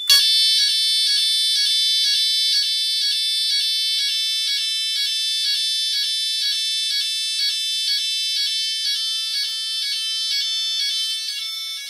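A loud Legrand fire alarm sounds continuously during a system test, with shrill, piercing beeps that repeat in a steady, rapid rhythm and no voices.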